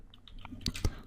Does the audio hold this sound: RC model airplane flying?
no